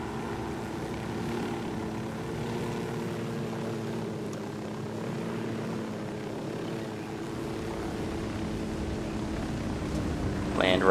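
A helicopter in the Ghost Recon Wildlands video game drones steadily with a continuous rotor and engine hum, holding level throughout with no spoken voices.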